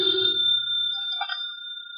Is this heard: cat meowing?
no